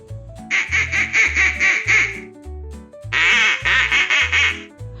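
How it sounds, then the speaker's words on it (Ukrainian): Two bursts of loud, rapid duck quacking over a bouncy musical beat, separated by a short pause. "Качка каже кря-кря-кря."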